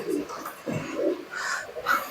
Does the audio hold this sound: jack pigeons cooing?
yes